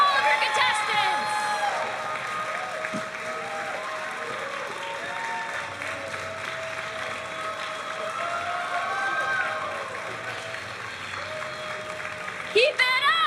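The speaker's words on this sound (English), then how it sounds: "So start clapping." Audience applause and crowd noise for a parade of cosplay contestants at the Too Many Games 2023 cosplay contest, steady clapping sustained throughout with a host's amplified voice talking over it and a brief whoop near the end.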